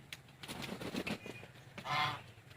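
Ducks on a farm giving a few close honking quacks, short separate calls with a louder drawn-out one near the end.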